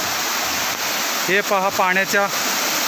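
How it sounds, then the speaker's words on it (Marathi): Steady broadband roar of a tall waterfall at Davkhol Uple, constant and close, with someone speaking briefly over it midway. "हा वरती सुंदर असा धबधबा उंच आपल्याला पाहायला मिळत आहे"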